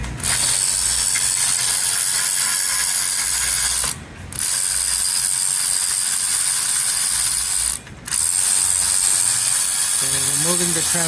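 A ratchet removes transmission bolts from a 2017 Audi Q7, producing loud, rapid continuous clicking in long bursts with two brief pauses, ending with a short mechanical whir.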